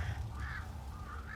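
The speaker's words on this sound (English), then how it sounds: "It's a lot of birds." Crows caw in a forest area of the video game Tainted Grail: The Fall of Avalon, two or three harsh calls over a steady low rumble, with no talking.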